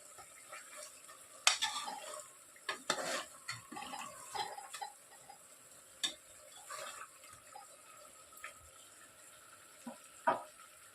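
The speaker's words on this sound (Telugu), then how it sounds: "చికెన్ ముక్కలు బాగా ఉడుకుతున్నాయి ఫ్రెండ్స్." Chicken pieces with masala and fenugreek leaves frying in a pan for an Andhra chicken masala curry, with a soft steady sizzle broken by scattered clinks and scrapes of a spoon stirring, quiet and close.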